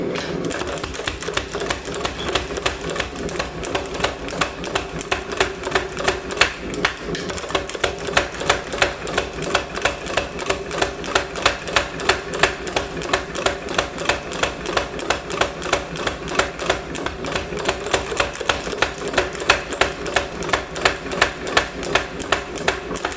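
Rapid, steady power hammer blows shaping hot steel into a stylized leaf at the forge, a fast even rhythm of close, loud strikes that continues throughout without talk.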